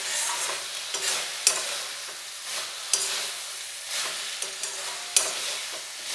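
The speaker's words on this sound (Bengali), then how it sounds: "বড়িগুলো দিয়ে নাড়াচাড়া করে খুব ভালোভাবে মিশিয়ে নেব" Fried lentil dumplings (bori) being stirred into spinach in a pan, with a steady soft sizzle and repeated scraping strokes of a spatula, several sharper clacks against the pan.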